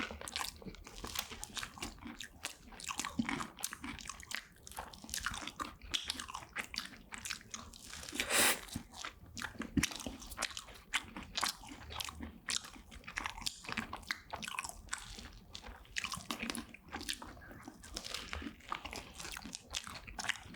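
Whipped cream and chocolate waffle eaten close to the microphone, with continuous soft bites, crunches and chewing for the whole stretch and no talking.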